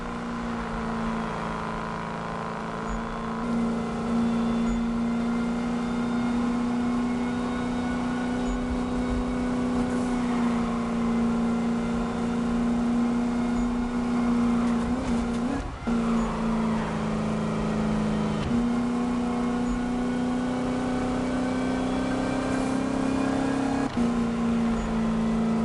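An upgraded car's engine in a PS4 racing game holds a loud, buzzing high-rev drone, with brief pitch drops at gear changes and a short tire squeal, unbroken and without voices.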